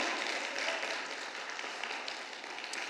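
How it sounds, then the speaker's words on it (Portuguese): A church congregation applauds during a Portuguese-language sermon, a steady dense wash of many hands clapping that holds evenly throughout without a voice above it. "Você pode aplaudir ao Senhor por isso ou não?"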